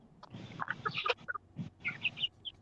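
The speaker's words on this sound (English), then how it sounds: "look at these stupid chickens" Chickens in a backyard coop cluck and squawk in irregular bursts, close by, with some higher sharp calls and no talk.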